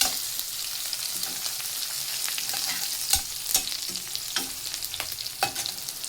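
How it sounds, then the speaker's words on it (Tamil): Onions sautéing in a pan until golden brown for a moong dal and snake gourd kootu, a steady close sizzle broken by occasional sharp stirring scrapes and clicks, with no voices. "வெங்காயமும் கோல்டன் ப்ரௌன் கலரில் நல்லா வதங்கணும்"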